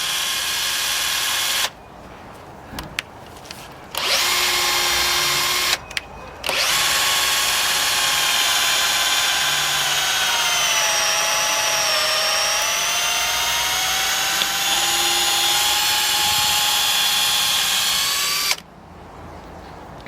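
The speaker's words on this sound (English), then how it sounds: "So, this is the 6mm drill bit. It's only about, I think it's 140mm long, and we just want to drill this out." A power drill with a 6mm bit about 140mm long drills out holes during a koi pond build. Its loud, sustained whine rises and dips in pitch, broken by a few brief pauses.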